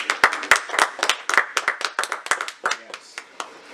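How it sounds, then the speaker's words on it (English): A small studio crowd claps for a guest, sharp distinct hand claps in loose uneven bursts that thin out toward the end, close up, with talk running alongside them. "let's go ahead and clap it up for you"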